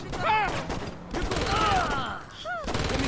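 Rapid SMG bursts in the Xbox One game Saints Row, a loud, sustained rattle of gunfire with a player talking over the shooting.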